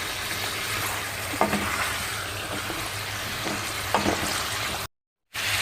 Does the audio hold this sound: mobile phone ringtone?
no